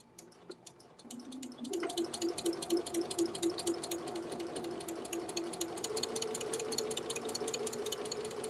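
A sewing machine stitches a quilt in the quilt-as-you-go method, starting with slow single stitches and then settling into a steady, fast mechanical hum with rapid rhythmic clatter, close and loud, with no talking.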